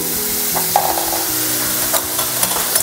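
Vegetables fry in a pan with a dense, loud, continuous sizzle, close up, with a few faint stirring clicks and no talking.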